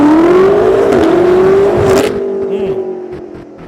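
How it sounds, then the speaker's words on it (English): A BMW M car does a brake launch, its engine held at a high rising rev that climbs steadily, then cuts off and fades into a lower idle with some scraping. "he's getting ready to do like a little brake launch for us"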